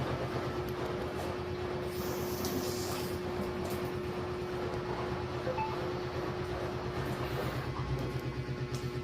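A Whirlpool inverter front-load washing machine running a test cycle after an E12 error repair gives a steady mechanical hum with a constant tone and a low rhythmic pulsing. It sounds close and continuous, and no one talks.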